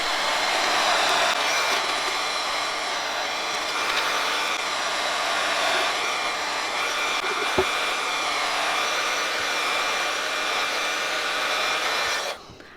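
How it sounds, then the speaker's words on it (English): Heat gun blowing on shrink wrap around a sublimation tumbler, a steady loud whooshing roar held for about twelve seconds before cutting off abruptly. "I'm going to go ahead and get the heat gun."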